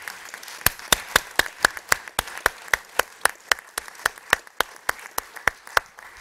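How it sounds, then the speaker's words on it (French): Shareholders at a corporate general meeting giving slow, evenly spaced rhythmic claps, sharp distinct beats at a steady tempo, moderately quiet in a large room. "tous les trois méritent, chers actionnaires, vos applaudissements encore une fois"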